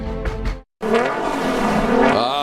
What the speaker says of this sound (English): The sound of a Nissan on the downshift down into our Stop Tech braking zone.